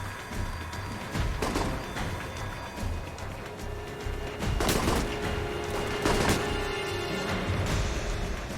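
Gunfire in a video game shootout in Rome, with repeated shots and bursts cracking over a dense, steady background of battle noise throughout, with faint voices mixed in.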